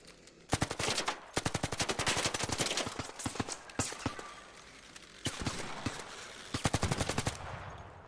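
Gunfire in the video game ARC Raiders, with several bursts of rapid automatic fire separated by short gaps and a few single shots, fairly close and sharp, with no talking.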